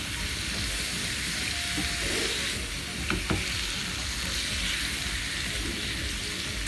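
Pork ribs fry in olive oil in a pan, giving a loud, dense, continuous sizzle throughout, with a couple of sharp clinks near the middle, and no voices.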